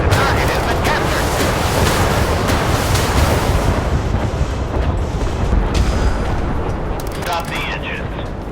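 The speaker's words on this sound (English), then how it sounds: "Missile launched at target." Missile launch aboard a warship in a naval combat video game, a loud roaring whoosh with blasting bursts over a steady sea-and-wind wash, sustained for several seconds and gradually easing.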